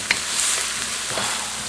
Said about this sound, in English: I got the onion and the shallots, the garlic, and the ginger all coming together in this here wok